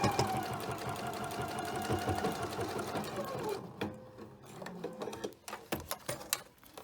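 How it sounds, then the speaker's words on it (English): A sewing machine top stitches three sides of a hip purse pocket, a steady close whirring run that stops partway, followed by a few handling clicks and shuffles. "you're only going to top stitch on three sides of this so you don't sew your"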